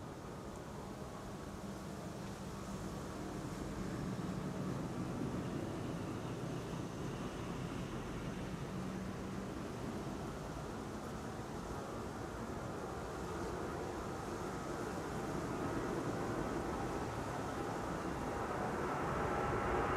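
An Airbus A300 airliner at Amsterdam Schiphol Airport, heard as a steady, faint broadband engine roar that swells slightly toward the end, with no talking over it.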